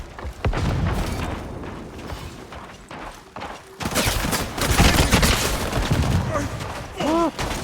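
Gunfire erupts in a HighGuard firefight: bursts of rapid shots and heavy booms crackle loudly throughout. The sound thickens into a denser volley midway, and a short electronic warble comes near the end.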